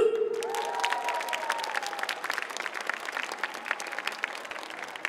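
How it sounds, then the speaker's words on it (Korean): Sustained applause from a school audience at a science concert, dense and steady clapping for several seconds, with a few faint voices mixed in. "재밌었다면 다 같이 박수!"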